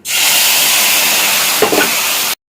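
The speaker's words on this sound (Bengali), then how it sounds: "ফোড়ন দেবো হচ্ছে কালো জিরে, দেবো সর্ষে বাটা" Black cumin seeds hit hot oil while tempering a mustard-paste pabda fish curry, giving a loud, steady hissing sizzle that flares briefly near the end and then cuts off.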